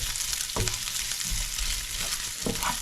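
Bacon fries in a pan until crispy, with a continuous close sizzle and crackle and a few sharper pops and stirring scrapes.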